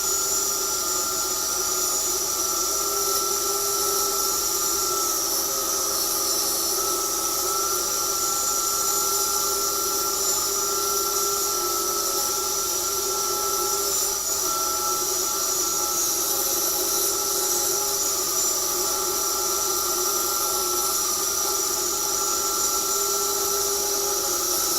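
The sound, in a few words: power saw cutting wooden planks in half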